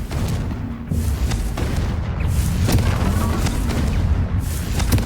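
Confringo blasting spells in Hogwarts Legacy burst in a run of deep, booming explosions, several loud blasts in quick succession over a rumbling background.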